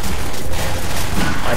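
Weapons firing in the video game Half-Life 2, a dense, loud burst of gunfire filling the short moment with no pauses.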